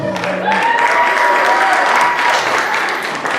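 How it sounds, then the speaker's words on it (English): Steady applause from an audience at a comedy show at an arts venue fills the room as a continuous wash of clapping, loud and close, with a faint voice briefly audible at the start. "You guys are clapping for yourselves."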